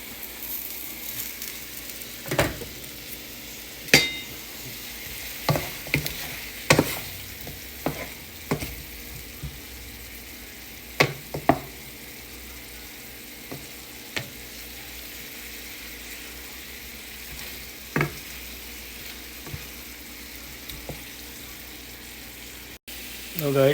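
Chicken sautés and is stirred in a pot while making chicken tinola: a steady sizzle of frying runs throughout, broken by sharp scraping and clinking of the spoon against the pot at irregular intervals.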